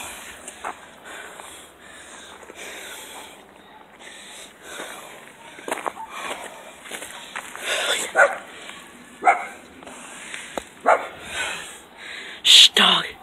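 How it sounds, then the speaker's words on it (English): Dog barking and yipping indoors in short, irregular bursts, some sharp and close, mixed with sniffs and whimpers while a person talks throughout. "Dog, be quiet."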